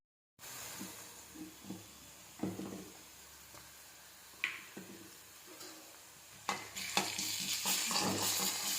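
Ginger and garlic frying with already-browned onions in a pan, a steady soft sizzle broken by scattered stirring scrapes and clinks, close and fairly quiet.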